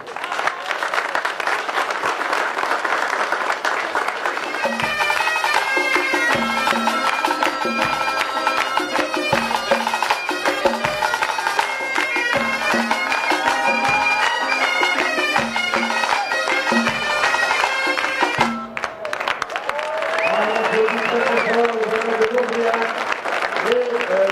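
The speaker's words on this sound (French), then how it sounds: "On peut les applaudir." Outdoor festival crowd applauding at a potato festival stage, clapping mixed with loud music and chanting voices, the applause blended under amplified performance sound rather than standing alone.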